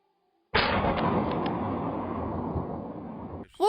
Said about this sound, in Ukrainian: Харків теж прокинувся від вибухів.